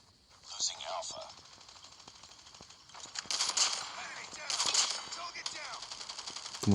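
Call of Duty Mobile gunfire: bursts of rapid shots come in clusters, moderately loud, spread across the clip with short pauses between volleys.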